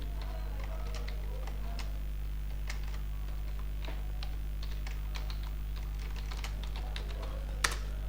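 Keystrokes on a computer keyboard as a system password is typed into a Linux terminal, light irregular clicks over a steady low electrical hum.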